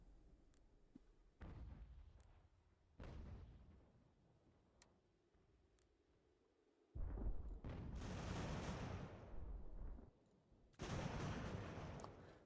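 Cannon fire in an American Revolution strategy game, with several booming blasts spaced apart, the later ones louder and sustained with rumbling aftermath, no talking.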